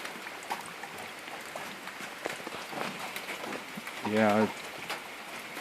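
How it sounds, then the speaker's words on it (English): Light rain falling by a pond and pattering steadily and softly near a tin roof, with a voice briefly speaking over it. "It's still raining a little bit."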